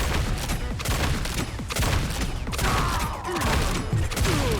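Video game gunfire in Marvel Rivals, with dense, continuous bursts of rapid shots and mechanical clatter, loud and close throughout with no talking.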